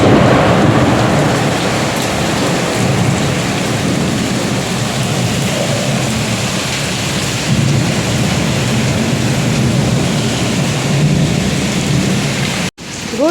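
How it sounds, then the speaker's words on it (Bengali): A thunderstorm with torrential rain hammering steadily and loudly nearby, low thunder rumbling beneath the downpour, and a brief dropout near the end; no one speaks. "ঘুম থেকে উঠে গেছো বিদ্যুৎ চমকানোর আওয়াজে?"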